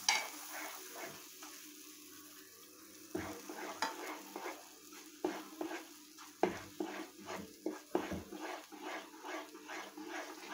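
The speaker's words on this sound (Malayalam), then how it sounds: "ഈ പാൽപ്പൊടി ഈ പാലും ആ നെയ്യും ഒക്കെ ആയിട്ട് നന്നായിട്ട് ഇളക്കി യോജിപ്പിക്കണം" Milk powder is stirred into warm milk and ghee in a pan for milk peda, with repeated close, rhythmic scraping and stirring strokes over a faint sizzle.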